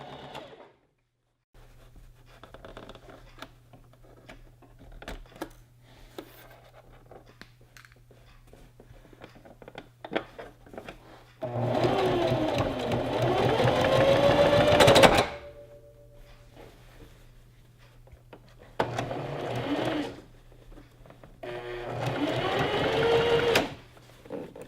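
Sewing machine stitching fabric down onto a gathered maxi dress, running in three separate bursts, the longest about four seconds, over a faint steady background hum.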